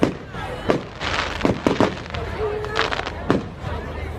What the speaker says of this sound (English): if you have a look at all of the fireworks, it should be right on top.